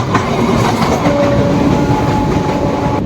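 Howrah–Radhikapur Kulik Express with new LHB coaches rolls along, a steady loud rumble of wheels on track heard from inside the coach, with faint clickety-clack and thin squealing tones drifting over it.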